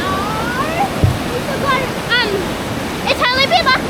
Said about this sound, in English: Oh, we made it to the waterfalls.